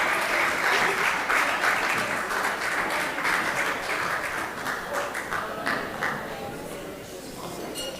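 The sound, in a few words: applause welcoming the MC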